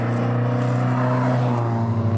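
An S10K car with individual throttle bodies drives on the road, its engine droning steadily with a strong low hum and a slight rise in pitch toward the end, close and loud, with no talking.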